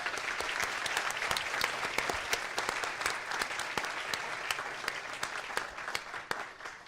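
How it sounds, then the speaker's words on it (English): A room applauds debaters after a performance at a high school debate championship, many hands clapping in a steady, crisp patter that carries on evenly throughout, moderately distant and free of speech. "Can we give them, please, a round of applause?"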